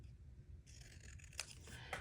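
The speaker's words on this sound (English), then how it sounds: "you can also just grab your scissors and just cut them." Scissors snip through paper faux stamps cut from scrap paper for junk journal ephemera, giving two or three close, crisp crunching cuts over a low background hum.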